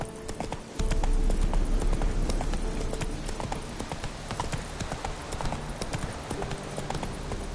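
Roach the horse gallops in The Witcher III, a steady rhythmic clip-clop of hooves close by under a continuous game soundscape, with no talk over it.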